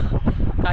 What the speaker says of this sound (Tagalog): Mama mia, ang lakas ng hangin dito.